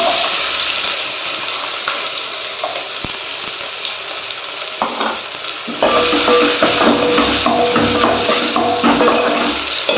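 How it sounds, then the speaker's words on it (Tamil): Fifteen chopped small shallots sautéing in a pan for a Tamil intestine fry: a loud, steady close sizzle with stirring scrapes, swelling louder partway through. "ஆனியன் வந்து நல்லா வதங்கட்டும்"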